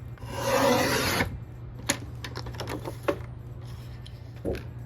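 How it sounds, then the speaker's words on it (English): A 12x12 Tonic paper trimmer slides along card stock to cut off the branding strip: one loud scraping rasp lasts about a second, then scattered light clicks and paper handling noises follow, close and quiet. "I'm going to use my 12x12 Tonic trimmer just to trim off the branding strip here"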